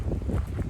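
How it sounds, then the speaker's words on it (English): Brief low rumbling buffet of wind hitting a microphone outdoors at Crooked River State Park, Georgia, loud and close, with no talk. "It's a little windy. Yeah, it's definitely windy this morning."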